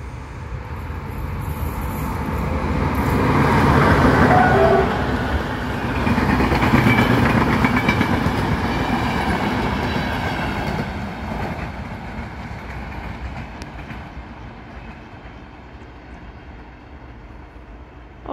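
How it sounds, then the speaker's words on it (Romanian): An evening train passes close by, a loud rumbling roar with rhythmic wheel clatter that swells, holds, then gradually fades into the distance. "vine și următorul tren, cel al patrulea"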